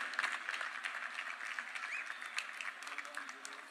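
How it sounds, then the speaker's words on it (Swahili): Steady applause from a large crowd at a Mashujaa Day 2025 celebration in Kitui County, Kenya, honoring Governor Dr. Julius Malombe, with dense, continuous clapping throughout. "Tumpongeze tena kwa makofi Governor Dr. Julius Malombe"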